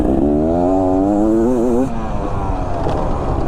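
A 2022 Beta XTrainer 300 two-stroke dirt bike engine revs up and down in a loud, wavering buzz for about two seconds, then settles into a rougher, steady drone.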